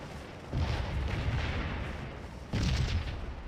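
Musket volleys in a Civil War battle video game, two loud rolling bursts of massed fire a couple of seconds apart, each trailing into a dull rumble.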